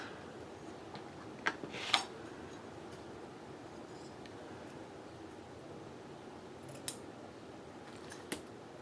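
Scissors trim the edges of washi tape in a few quick, faint snips over a quiet crafting room hum, with isolated small clicks spread through the stretch.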